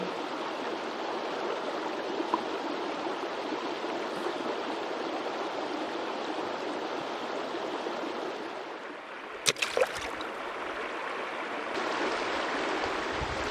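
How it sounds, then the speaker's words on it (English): A river on Dartmoor flows steadily with broadband rushing water throughout, close and continuous, with a few brief splashes and knocks near the end. "So I'm down by the river"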